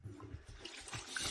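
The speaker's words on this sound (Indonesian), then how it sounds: "Suara apa itu? Mungkin keran air lupa dimatikan." Water running from a tap left on, a soft continuous splashing stream, faint and close, with no one speaking.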